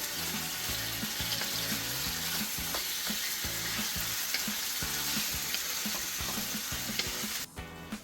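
Pork ribs stir-frying with garlic in hot oil, a dense continuous sizzle with rhythmic scraping stir strokes of a utensil throughout, close and fairly quiet, with no voices.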